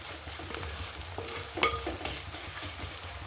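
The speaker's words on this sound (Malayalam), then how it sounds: "നല്ലോണം വഴന്ന് വരട്ടെ കേട്ടോ." Onion, green chili and curry leaves sauté in a pan for a Kerala-style chicken curry, giving a soft steady sizzle with a few stirring scrapes and one louder clatter partway through, with no talk.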